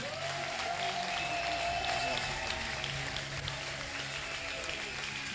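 A church congregation at a French-language service on overcoming sorcery through the Holy Spirit claps and cheers in steady, moderately loud applause that fills the room, while a voice carries on over it.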